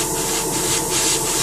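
An airbrush sprays thin paint onto a model during preshading, giving a steady close hiss of air with slight pulsing, alone without talk.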